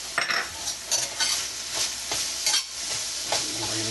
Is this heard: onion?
yes